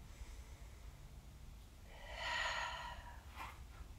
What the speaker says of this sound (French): Deux autres inspirations et expirations.